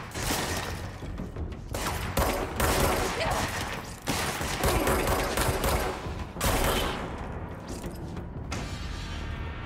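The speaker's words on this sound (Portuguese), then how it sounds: "ele manda uma granada" Sustained heavy gunfire and explosive booms during a firefight in the video game Control, including a grenade blast, dense and loud throughout with brief lulls, with faint voices underneath.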